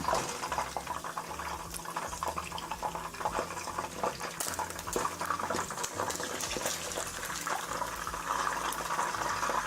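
Hot deep-frying oil drains off cooked Filipino holiday food in a home kitchen, a continuous bubbling, trickling liquid sound with faint crackles, close and steady.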